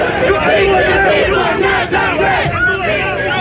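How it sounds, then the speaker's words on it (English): A crowd of young people at a 1980 Reagan campaign event shouts and chants loudly and continuously, a dense roar of many overlapping voices close by. "he was drowned out by a crowd of young people"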